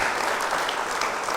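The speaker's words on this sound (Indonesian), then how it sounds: "Jadi ini hebat nih, tepuk tangan." A studio audience bursts into steady, dense applause that fills the space evenly and loudly, with no speech over it.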